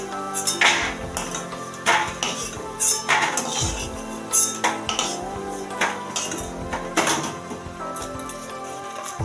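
Metal utensils clink and scrape against a wok as fried bottle gourd fritters are lifted out, a series of close, sharp knocks and rattles in an irregular rhythm over faint background sizzle.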